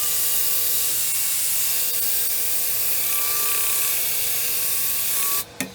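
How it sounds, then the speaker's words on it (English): Cherry burl wood is sanded with 800-grit paper, producing a continuous close hiss of rubbing that runs steadily and stops abruptly at the end. "it's going to take me a minute to sand all this"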